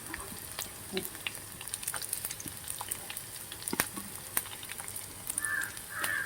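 Dried red chillies and onion fry in hot oil with a quiet, crackling sizzle and scattered pops, while crows caw now and then in the background.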